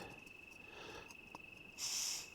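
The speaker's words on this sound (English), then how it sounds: "All I can hear is a river and some really loud crickets behind me." Crickets chirring beside a river at night, a faint, steady, continuous trill that holds throughout, with a brief louder hiss near the end.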